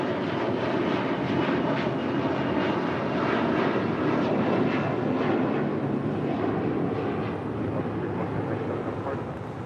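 Air Canada Airbus A330-300 taxiing on the south side at LAX, a steady broadband jet engine roar holding at a constant level throughout with no voices.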